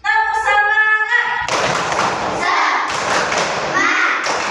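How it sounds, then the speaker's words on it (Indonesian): A classroom of children doing a rhythmic spirit clap, a string of loud, close claps and thumps in quick succession with some children's voices mixed in. "Ibu mau cek semangat dulu dengan tepuk semangat"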